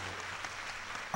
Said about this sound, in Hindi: सबके सब ताली बजेगा।